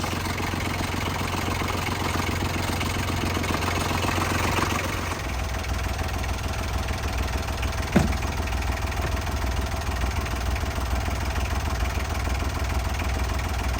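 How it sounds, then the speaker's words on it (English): A Yanmar 3YM30 marine diesel runs steadily at about 1100 RPM in reverse while a boat anchors, a loud continuous close-up drone with one brief knock partway through. "We are anchoring and backing up on this engine right now, so we're at about 1100 RPMs."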